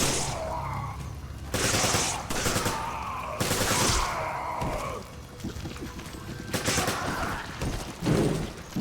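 Gunfire from Resident Evil 5 in co-op play, with loud repeated shots and bursts, dense and close, alongside booming impacts and grunts, and no clear talk over it.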